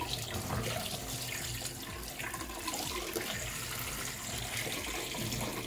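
RO water pours steadily into an aquarium fitted with an Aquael Ultramax 2000 filter, making a continuous splashing, gurgling stream at close range with no talking.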